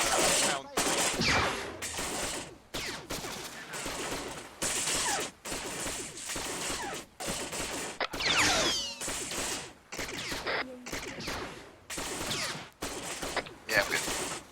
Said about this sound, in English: Gunfire's on the other side.